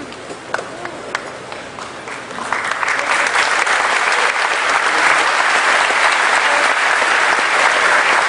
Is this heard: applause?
yes